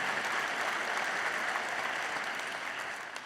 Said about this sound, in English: So a big hand of applause for all of them